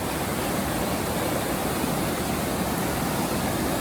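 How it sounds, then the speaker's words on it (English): A waterfall on a river gives a steady, broad roar that holds at an even level with no pauses. "That is an awesome waterfall."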